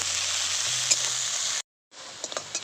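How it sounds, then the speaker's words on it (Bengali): Chopped onions with a little salt and nigella seeds sizzle in a pan while being stirred, a steady close frying hiss broken by a brief gap, then resuming with small scraping clicks. "দিয়ে দেবো কুচানো পেঁয়াজ দিয়ে দেবো সামান্য একটু লবণ এবার ভালো করে নেড়ে চেড়ে ভেজে নেব"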